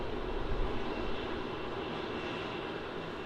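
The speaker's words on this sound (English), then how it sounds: "And lining up now to runway 16, we have an international flight. This is going to be Qantas QF177 off to Queenstown." A Qantas jet airliner on the runway at Melbourne Airport, its engines giving a steady, broad roar that holds at an even level throughout, heard from a distance with no one speaking.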